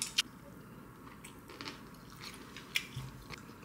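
Crunchy burdock bulgogi is chewed close up, with a few crisp bites over quiet, soft mastication and no talk.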